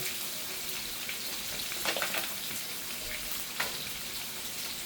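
Onion and sofrito frying in oil in a pan, a steady, fairly faint sizzle with a few brief crackles and stirring clicks.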